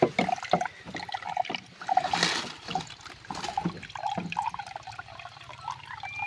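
Water is poured for drinking outdoors on a hot day at a farm, with splashing and trickling bursts, small drips and clinks coming and going close to the microphone.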